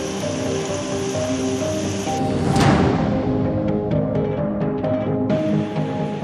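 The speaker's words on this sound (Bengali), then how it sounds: "দক্ষিণ চব্বিশ পরগনার কাকদ্বীপ এখানে উত্তাল সমুদ্র" Rough sea surf surging against the shore at Kakdwip in South 24 Parganas on the Bay of Bengal during a low-pressure storm, a steady loud roar of breaking waves with a heavier crash midway.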